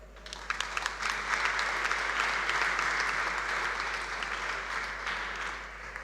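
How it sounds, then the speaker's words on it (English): An audience applauds a panel at the end of a monkeypox discussion, dense clapping that starts with a few claps, swells quickly and holds steady at moderate distance with no talking. "Can we kindly give our panel a round of applause?"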